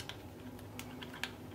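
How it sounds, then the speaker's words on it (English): Small plastic clicks as a replacement screen is pressed into a Nintendo DS Lite handheld being rebuilt from spare parts, a faint, close, irregular series of light snaps. "there's going to be quite a lot of clicking. You're going to hear now, click, click, click."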